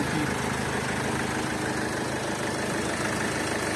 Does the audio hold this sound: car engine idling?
yes